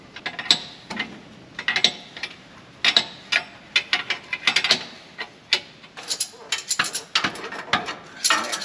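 A nut is run up and tightened during a John Deere combine 4x4 install, with dense close clicking and ratcheting in irregular bursts, alongside metallic knocks and creaks that continue for several seconds.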